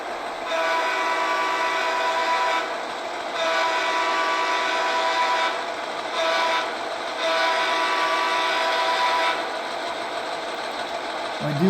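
HO scale Rapido GP38 model locomotive in BN livery running steadily at speed step 10, a continuous close motor whir with loud sustained diesel sound-effect drone that swells and dips slightly over the run.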